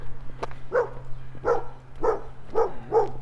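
A dog barks about five times at a steady, unhurried pace, fairly close and clear, during an outdoor street walk in Regina in June, with a faint steady hum underneath.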